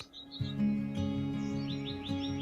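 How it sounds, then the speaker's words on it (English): Birds chirp and tweet in a university courtyard, repeated short rising calls from a few birds at moderate distance over a soft steady background hum, with no talking. "I like to go down to the courtyard, just sit, especially early in the morning, to listen to the birds harp"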